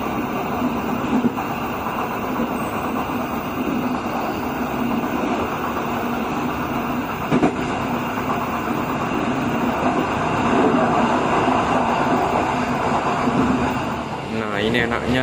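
Inside the rear car of the Gayabaru Malam Selatan overnight train from Jakarta to Surabaya, a steady rolling rumble and rattle carries on throughout. There is a brief knock partway through, with louder clatter near the end.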